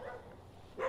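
A neighbor's dog gives a single faint, short bark at the end, distant and muffled beneath a low background hum.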